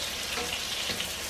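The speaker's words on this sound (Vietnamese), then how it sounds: "Để giờ mình chiên tàu hũ cho nó xong cái đã." Tofu frying in a pan of hot oil gives off a dense, continuous sizzle that stays close and steady throughout, with no voices.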